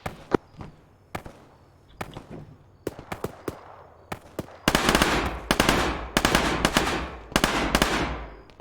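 Automatic machine gun fire in a military shooter video game: scattered single cracks give way to loud, rapid sustained bursts, close and punchy with no talking.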